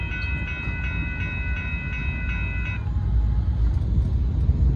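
The Amtrak Texas Eagle 21, a southbound passenger train running late, roars past close by with a loud, steady rumble, its horn pulsing in short blasts through the first part before the rolling wheel noise swells.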